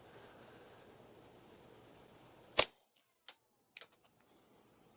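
A single sharp shot from a 22LR rifle fitted with a 223 suppressor cracks out over faint outdoor hiss, followed moments later by a couple of distant metallic pings from a struck 50-yard steel target.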